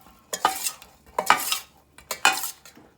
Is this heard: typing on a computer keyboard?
no